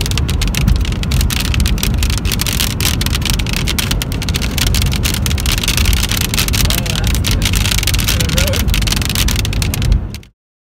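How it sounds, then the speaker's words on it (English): Dense, steady hail pelting a car during a road trip across Nevada, a loud continuous drumming that lasts about ten seconds before cutting off. "More hail."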